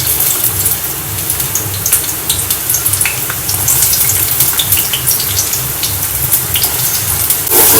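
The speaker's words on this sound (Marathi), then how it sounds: "थोडे लाल होईपर्यंत आपण परतून घेऊया" Chopped onion sautéing in oil in a pot for egg bhurji, giving a steady, dense hiss and crackle that runs unbroken at close range with no voices.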